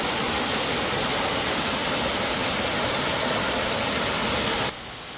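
A waterfall pours steadily into a deep plunge pool, a loud, broadband rush of falling water that stays constant and close before cutting down sharply near the end.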